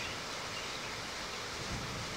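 Heavy rain pours down steadily with broadband hiss throughout, and a faint low rumble of thunder swells near the end; no voices are heard.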